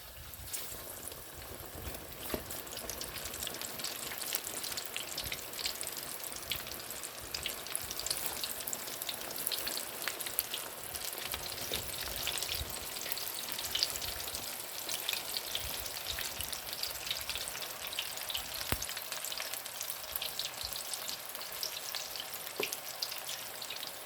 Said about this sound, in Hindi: ऑयल गर्म है हमारा। तो ना इसमें हम अब पकौड़े डालने शुरू करते हैं।